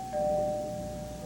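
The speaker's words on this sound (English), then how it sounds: "The next thing I knew, the doorbell rang." A single doorbell chime rings out clearly, one sustained tone fading slowly against a quiet indoor background.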